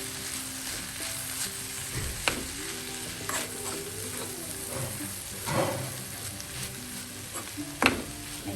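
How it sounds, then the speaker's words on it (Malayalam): A spoon stirs vaal beans thoran with grated coconut in a hot pan, sizzling gently underneath while scraping strokes land at irregular intervals, a few sharper scrapes standing out, with no voices. "തേച്ച് വെച്ചിരിക്കുന്ന തേങ്ങ ചേർക്കാം. എല്ലാം കൂടെ ഒന്ന് മിക്സ് ചെയ്യും."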